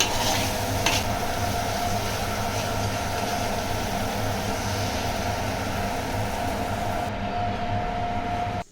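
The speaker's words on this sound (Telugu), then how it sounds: "అన్నీ వేసుకున్న తర్వాత ఇలా నీట్గా అనేది మిక్స్ చేసుకోవాలి" Spices and yogurt stirred into hot oil with bay leaf and ginger-garlic paste for egg biryani, a steady dense frying hiss with scraping mixing underneath, close and constant until it cuts off near the end.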